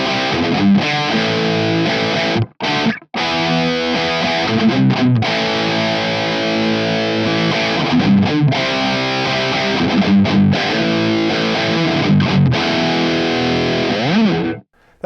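Electric guitar played through a Marshall Studio JCM900 amp with heavy high-gain distortion, loud sustained chords and riffs ringing out with two brief silent breaks, no talking.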